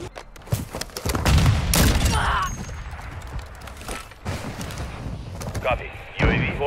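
Sniper rifle shots ring out in a multiplayer video game shooter, with a couple of loud cracks and booms among game effects, while players talk over the action.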